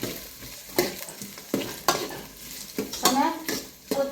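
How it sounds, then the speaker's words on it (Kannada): Onions fry in a pan under a constant sizzle, broken by repeated scraping and clinking spoon strokes against the metal at an uneven rhythm, close and fairly loud. "ಇದು ಉಳ್ಳಾಗಡ್ಡಿ ಫ್ರೈ ಆಗೋದಂತ್ರಿ"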